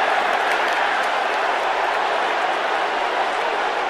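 A stadium crowd at an NFL football game roars after a hard hit, a loud, continuous wash of cheering that holds steady throughout with no clear single voices.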